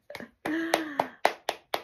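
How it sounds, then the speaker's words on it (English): A short burst of hand clapping, about eight sharp claps close up, quickening into an even rhythm, with a faint tonal hum under the first few. "I have to give Spirit a little applause here, because wow."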